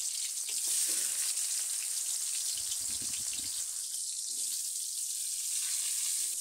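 Pumpkin pieces drop into hot oil in a wok, producing a steady frying hiss with a few low thuds and clatters as they land and shift, close and with no talking.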